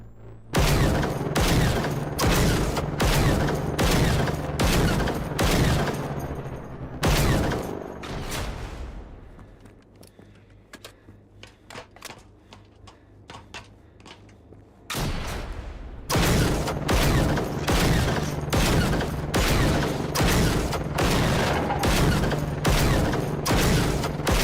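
Enemy gunfire in the video game Generation Zero: dense, loud bursts of rapid shots for several seconds, a quieter lull with faint scattered pops, then heavy sustained firing resumes.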